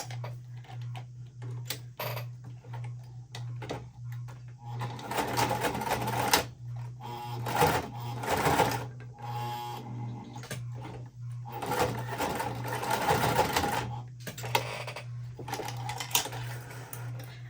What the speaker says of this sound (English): I'm just sewing the 2 lines